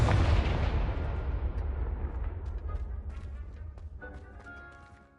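A Confringo blasting spell in a video game goes off as a loud, deep explosion boom that rolls and slowly fades, with scattered crackles and ringing debris in the tail.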